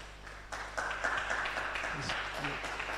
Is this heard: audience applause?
yes